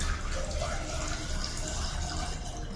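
Water pours steadily into a clay pot of village-style Odia moong dal dalma, a close, continuous gushing splash lasting throughout with no speech.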